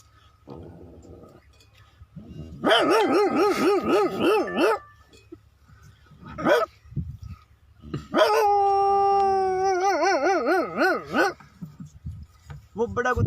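A voice imitates a big dog, first a few short barks, then two long wavering howls with a trembling pitch, loud and close over quiet background.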